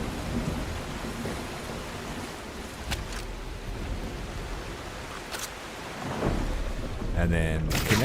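A thunderstorm rages in The Last Caretaker video game: steady heavy rain hiss with a few sharp cracks of thunder, building louder toward the end.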